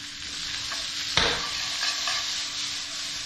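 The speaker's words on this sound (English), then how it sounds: "So when you're stir frying, you want to get the pan really hot." Snow peas, peppers, onions and garlic are stir-fried in a very hot pan, giving a constant close sizzle with a sharp burst of hissing as the vegetables are tossed, and no voices.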